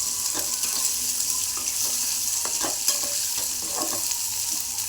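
Egg bhurji mixture of egg and fried onion being stirred in a pan, with steady frying sizzle and a series of distinct scraping stirs spread through the clip, close up and with no talking.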